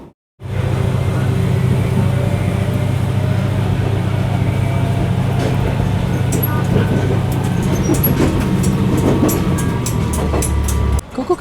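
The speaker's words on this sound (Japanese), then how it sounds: "ここからしばらく伊賀盆地を走り、列車の速度は上がります" A Kansai Main Line train runs through the Iga Basin and gathers speed, a loud steady rumble of wheels and motor with rail clatter building near the end, no voices.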